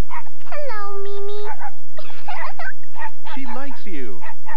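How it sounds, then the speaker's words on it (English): In a cartoon scene, puppies and their mother dog let out drawn-out whines and whimpers mixed with short yips, heard close and loud while a voice talks intermittently over them. "Caillou was excited to play with the puppies"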